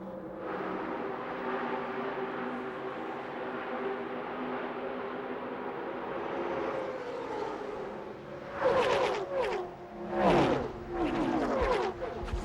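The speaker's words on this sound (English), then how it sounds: "When those cars come off the corner like that." NASCAR stock cars coming off a corner at Daytona during the 1998 Daytona 500, a broad engine roar building as several cars scream past in quick succession near the end, with pitch sweeping down as each passes.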